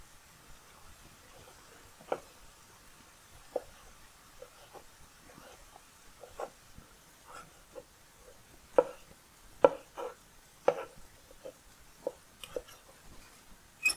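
Cooked beef tongue is chopped into small pieces on a board with a knife, giving sparse, irregular dull knocks that come faster at times, close and fairly quiet, with no talk.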